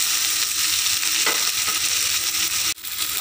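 Tomatoes frying in a pan for a prawn curry sizzle loudly and steadily while a spoon stirs through them, with a brief scrape near the end.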